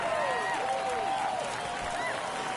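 Crowd noise at a ballpark in the MLB The Show 24 baseball video game, a steady, moderate roar of spectators with scattered cheers and whistles, running continuously under a voice.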